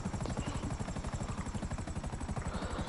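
A helicopter in the video game GTA gives a steady, rapid rotor thump over a constant engine drone. It sounds loud and close throughout, with a quiet voice briefly underneath.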